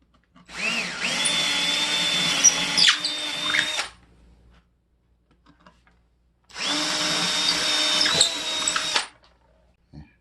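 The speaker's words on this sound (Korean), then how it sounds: "지름 8mm 칼블럭과 같은 홈을 뚫어줍니다" A power drill bores an 8mm hole in drywall, giving two loud, close whirring bursts of about three seconds each separated by a quiet pause, with a grinding edge as the bit cuts the gypsum board.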